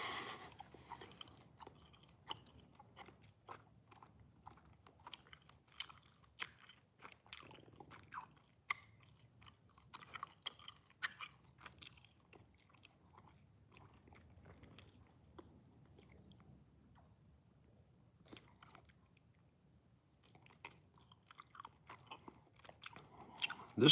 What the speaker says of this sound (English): The chewing must sound so loud.